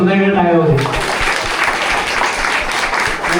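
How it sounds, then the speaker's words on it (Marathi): Strong audience applause at a village Zilla Parishad school event in Talawade, Devrukh, honouring the Sangam Ratna Foundation; dense sustained clapping fills the clip after a brief opening voice, loud and steady throughout. "संगम रत्न फाउंडेशनसाठी जोरदार टाळ्या होते."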